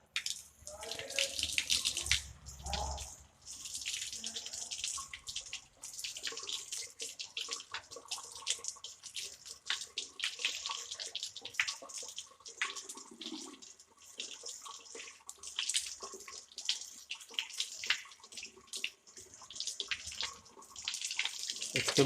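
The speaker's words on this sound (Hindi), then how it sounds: "उसके बाद फिर जो है पैर धोएं, पैर धोएं, बाएं हाथ से धोएं" Tap water runs steadily into a sink while feet are washed during wudu ablution, a continuous close splashing hiss with small surges throughout and no talk over it.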